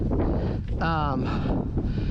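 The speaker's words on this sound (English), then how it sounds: "on such a windy day like this" Strong wind buffets the microphone with a constant heavy rumble at an RC flying field, and a brief whirring tone from an electric power glider rises through it midway.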